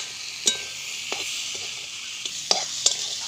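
Turmeric and spices frying in oil for a river chela fish curry, a steady faint sizzle broken by several sharp spoon scrapes and clinks against the pan, close by and without talk.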